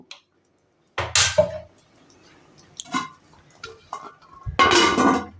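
A lid clatters onto a cooking pot of jackfruit kalia enriched with ghee, giving two distinct metallic clanks a few seconds apart, with quieter scrapes and clinks between them.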